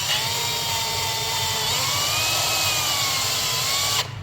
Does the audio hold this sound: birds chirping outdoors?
no